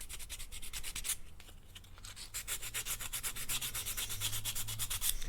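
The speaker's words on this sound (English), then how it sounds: "Anyways, back to sanding." An art toy being sanded by hand: steady, rhythmic back-and-forth scraping strokes, close and fairly loud, continuing without pause and with no voices.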